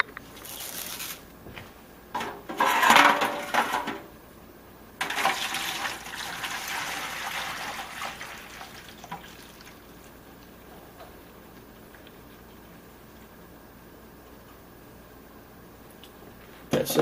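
Ballistic gelatin mixture poured from a container into a mold, giving a couple of sloshing, splashing pours of liquid around two seconds apart, each trailing off into near silence.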